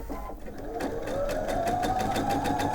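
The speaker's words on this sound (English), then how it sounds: "I'm just going to sew just a little bit with the stop-go button so that you can see how that works" PFAFF creative expression 750 sewing machine stitching a short run started with its stop-go button, a rapid even mechanical whir that speeds up, close and clear.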